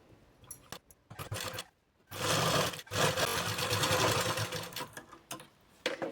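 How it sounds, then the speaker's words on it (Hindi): Sewing machine stitching a firm line of stitches on blouse fabric, close and loud, running in bursts with short pauses, then a longer steady run of stitching. "यहाँ पर हमें पक्की सिलाई लगानी है"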